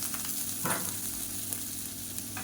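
A handful of onion sautéing in a pan with asafoetida for millet kolukattai, a soft steady sizzle at moderate distance with a couple of brief stirring scrapes, no talking.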